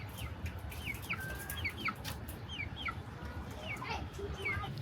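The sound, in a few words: hen clucking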